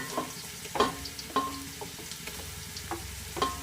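Onion with ginger and garlic sautés in a pan for chicken dum biriyani, giving a soft sizzle under a few sharp clinks and scrapes of a spoon against the pan, quiet and close.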